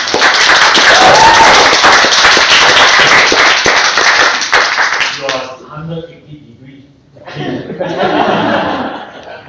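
Meeting audience at a Toastmasters club giving a round of applause, loud dense clapping for about five seconds that breaks off abruptly, followed by a short pause and a brief renewed burst with some chuckling.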